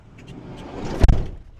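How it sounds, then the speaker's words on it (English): A van door slides along and shuts with one loud, close thud, followed by a brief rattle as it settles. "So let me close this door."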